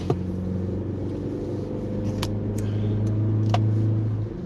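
A car engine idles steadily with a low, even rumble and faint hum, holding constant throughout with no revving.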